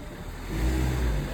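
A Maruti Suzuki Esteem car's engine rises as it pulls away for a test drive, a mid-pitched revving swelling partway through and holding steady, close by.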